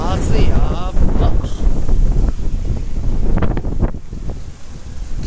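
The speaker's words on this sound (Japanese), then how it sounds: "風がやっば" Strong wind buffets a microphone outdoors in Shinjuku, a loud continuous roar and rumble across the whole stretch, with gusts rising and falling and a voice talking through it.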